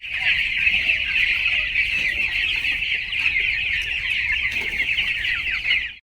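A dense flock of broiler chickens on a poultry farm clucking and chattering continuously at close range, a steady busy din with no voices.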